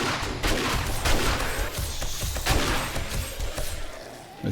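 Rapid bursts of gunfire in a horde survival video game, dense overlapping shots and thuds that keep firing in a loud, continuous fusillade with no voices.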